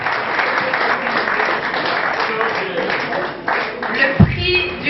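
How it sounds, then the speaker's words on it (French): A crowd at a Congolese awards ceremony applauds a rural development prize winner, a sustained dense wash of clapping with voices mixed in and a brief louder burst near the end. "Veuillez applaudir s'il vous plaît"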